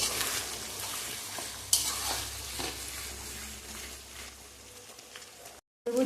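Garlic paste frying with onions in a pan, a steady crackling sizzle with scraping stir strokes, one sharp clatter near the two-second mark and a brief drop to silence just before the end.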